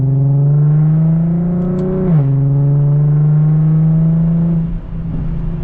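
A loud modified Infiniti G37 accelerates hard, its deep exhaust drone climbing steadily in pitch. It dips briefly as if shifting gears, then keeps climbing, heard up close and filling the whole stretch.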